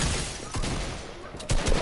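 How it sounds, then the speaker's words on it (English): Rapid bursts of video game gunfire crackle in a dense barrage, with a fresh loud volley near the end and players' voices faintly mixed in. "Stop shooting at me!"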